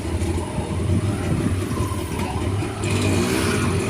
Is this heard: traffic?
yes